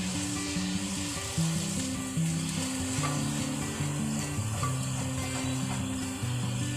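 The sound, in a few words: frying in oil until golden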